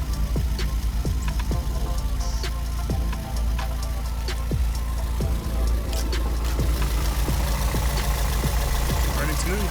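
Rebuilt turbocharged engine of a Toyota MR2 Spyder idling steadily and close, a constant low drone with faint mechanical ticks, and a person talking over it.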